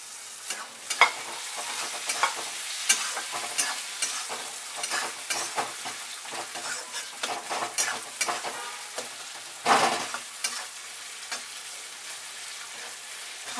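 Finely chopped tomato cooks in a pan for a Maharashtrian Bhogi vegetable dish, with soft sizzling under a run of close, irregular stirring and scraping taps, one louder clatter near the end.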